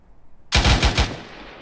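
Gunfire in the video game Arma 3 on the Altis map: after a quiet lead-in, a close, loud burst of about four rapid shots fades into a decaying echo.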